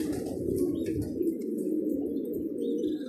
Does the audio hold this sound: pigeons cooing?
yes